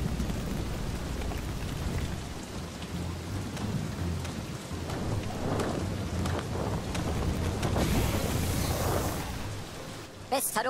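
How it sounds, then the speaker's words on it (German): A thunderstorm in the medieval city-building game Townsmen brings dense, steady rain with rolling thunder rumbling underneath, and the storm swells louder toward the end. "Ein Gewitter zieht auf."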